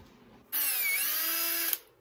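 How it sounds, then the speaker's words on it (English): A power drill whirs at high speed for about a second, starting abruptly and cutting off with a clunk, loud and close. "We also need a drill, probably."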